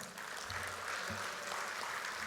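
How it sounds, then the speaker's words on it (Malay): An audience at a UMNO president's policy speech applauds a group from Sabah with steady, faint clapping that holds at an even level throughout. "Sekali lagi tepukan untuk rakan-rakan kita dari Sabah"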